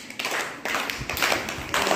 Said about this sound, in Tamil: வெரி குட், எல்லாம் கை தட்டுங்க.